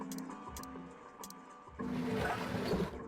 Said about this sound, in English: let's try that faucet